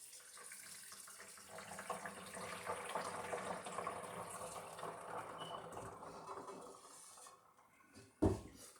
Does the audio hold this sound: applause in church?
no